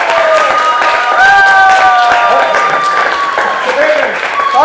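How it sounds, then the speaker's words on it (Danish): Studio audience clapping on a Danish quiz show, a loud dense patter throughout, with whistle-like tones and a presenter's voice carrying over the top. "Vi klapper lige videre, Johan."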